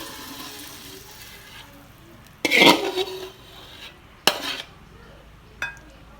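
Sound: stir-fried shrimp with stink beans poured from pan onto plate

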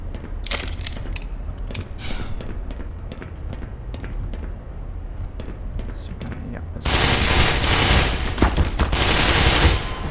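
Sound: gunfire in the video game Black Mesa

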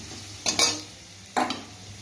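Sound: chopped garlic frying in a pan

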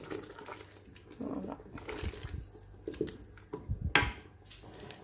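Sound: pouring water into couscous sauce pot

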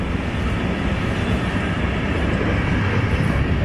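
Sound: train passing by

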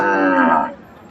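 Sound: cattle mooing at a cattle market

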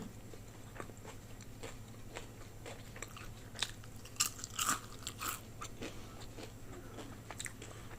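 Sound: biting into crispy fried fresh gyoza

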